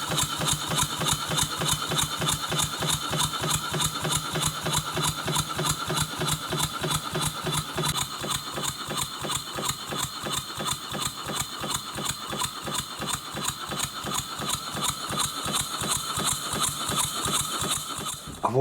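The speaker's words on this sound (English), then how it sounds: "The engine is really tight. It should run a lot smoother than that." A small model steam engine runs roughly despite being tight, chuffing in a fast, steady, loud mechanical rhythm with clattering beats throughout, close by and alone.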